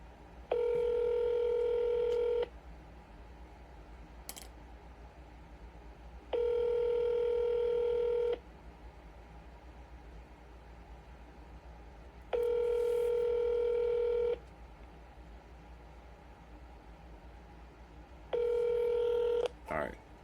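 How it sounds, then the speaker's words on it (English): An unanswered outgoing phone call on a cold call rings back in a repeating pattern, four long electronic ring tones spaced evenly apart, faint and steady with quiet room noise between them. "They're not answering the fucking phone."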